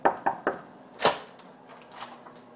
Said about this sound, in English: two suspicious-looking men knocked at the door.